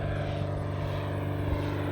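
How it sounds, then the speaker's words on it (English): A Beechcraft Bonanza V-tail airplane passing overhead, its piston engine and propeller making a loud, steady droning roar with a rich harmonic buzz. "You can hear that engine. The Bonanza engine is so unique."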